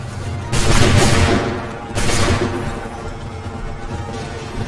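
Musket volley gunfire in the video game Assassin's Creed III, two loud ragged volleys of many shots fired together, each a crackling burst that fades away, over a background of battle noise.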